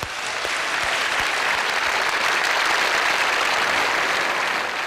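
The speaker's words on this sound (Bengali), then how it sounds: "আজকে এই পর্বে বিজয়ী হয়েছেন এই 3 নারী, তাদের জন্য করতালি।" A studio audience at a Bangladeshi TV show applauds the day's three winning women, with dense, even clapping that holds at full strength for the whole span and no voices over it.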